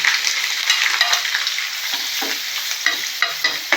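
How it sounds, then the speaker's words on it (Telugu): Cut paneer pieces fry in about four tablespoons of hot oil in a kadai, giving a loud, steady crackling sizzle with brief stirring scrapes and no voices. "ఆయిల్ హీట్ ఎక్కిన తర్వాత కట్ చేసి పెట్టుకున్న పన్నీర్ పీసులు వేసుకోవాలి"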